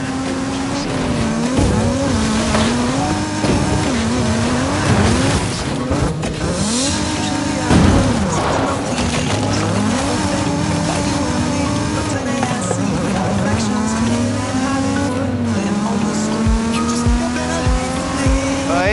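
A Miata race car in a driving video game, engine droning loudly and shifting pitch as it revs through a spooky woodland course, with repeated tire squeals over nineteen seconds under occasional talk.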